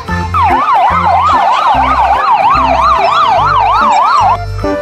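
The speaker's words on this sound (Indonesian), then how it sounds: "Ada mobil ambulan." A toy ambulance siren wails in a steady rapid up-and-down pattern, loud and close, over a rhythmic pulsing electronic beat.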